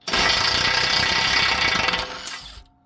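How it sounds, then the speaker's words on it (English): An impact tool with a 19mm socket spins off the front strut nut on a Honda CR-V, a loud continuous buzzing whir for about two seconds that cuts off abruptly. "And now use a 19mm socket to remove the nut."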